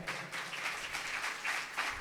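Faint, steady congregation clapping at a Palm Sunday church sermon, a continuous distant patter of hands with no voices over it.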